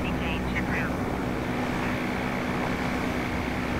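A Top Rudder 103 Solo ultralight kit aircraft's small engine drones steadily in Microsoft Flight Simulator, a constant buzzing hum with a steady pitch, under a voice talking over it.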